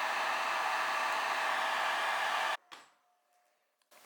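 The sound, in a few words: hair dryer melting crayon wax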